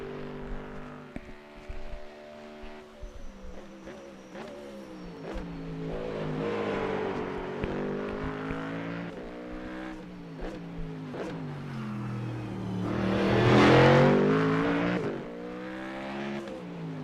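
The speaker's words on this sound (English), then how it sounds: "Just to absorb some Mustang sound." Ford Mustang GT3 race car engine in an iRacing replay, a steady harmonic drone that rises and falls through gear changes, swelling to a louder pass near the end with no talk over it.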